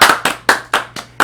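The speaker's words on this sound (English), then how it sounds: "Can we just get a round of applause?" A few people clap together in slow, uneven bursts, about six sharp claps spread over a second, close and fairly loud with no talk over them.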